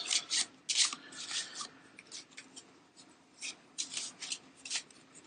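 A deck of event cards for a board game is shuffled by hand close up, giving quiet, irregular riffling and rubbing bursts that come in short clusters with brief pauses between them.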